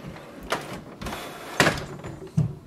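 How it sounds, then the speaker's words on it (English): Access doors on an HP Envy Inspire 7924e printer are opened by hand, giving a few plastic clicks and a soft swinging clunk, close and fairly quiet against faint room noise. "Open the front door and open this door."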